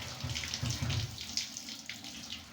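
Running water splashes and swirls in a kitchen as rice is rinsed by hand, a steady close wash of water with gentle sloshing and no speech.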